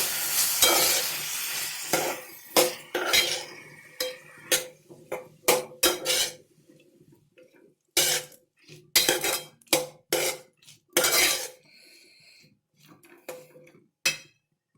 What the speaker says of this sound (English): Now add boiled cauliflower. And mix it well.